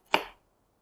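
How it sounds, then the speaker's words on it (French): A knife slices through garlic in a single short crisp chop against a board, close by and alone, fading out quickly. "Découpez l'ail"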